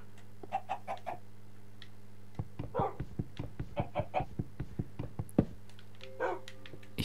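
Minecraft chickens cluck in a steady run of short, repeated calls, with dog-like yips mixed in over a low steady hum.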